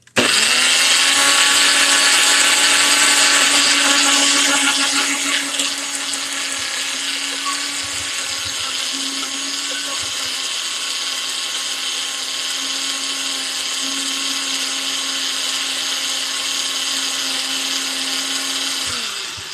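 Blender liquefying chili peppers, a loud sustained motor whine that eases slightly after the first few seconds and then holds steady, running alone without any talk.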